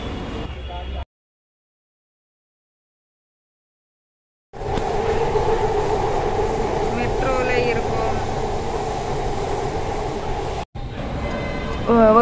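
Steady rumbling roar of a Delhi metro train car in motion, with a continuous hum and rattle filling the space; faint squeals rise briefly partway through.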